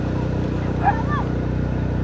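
A motorbike engine passes on a countryside road near a resort above Cagayan de Oro, a steady low rumble with a brief rising whine in the middle, heard fairly close.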